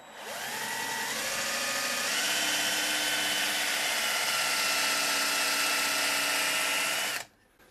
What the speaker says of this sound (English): I'm using the drill on an angle to get to the center of the hole